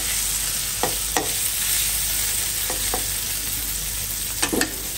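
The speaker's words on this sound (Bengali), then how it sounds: "এখানে দেখতে পাচ্ছেন আমি হলো মাছ ভাজতেছি" Fish frying in a pan, a steady close sizzle with a few sharp crackles and pops scattered through it.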